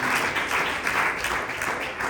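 A church congregation bursts into applause, a loud, dense wash of clapping that lasts two seconds, close and sustained.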